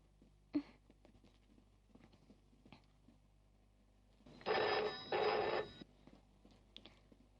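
A phone rings in two short electronic bursts amid faint clicks and handling noises in a quiet room.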